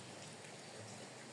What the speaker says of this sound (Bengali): অনবরত টিপ টিপ করে বৃষ্টি হয়।